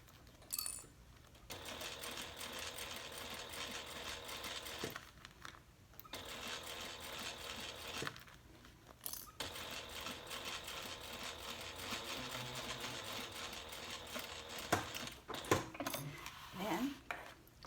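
A sewing machine stitching a handbag pocket onto a side panel: quiet, close mechanical whirring in bursts, with short pauses for pivoting and small clicks in between.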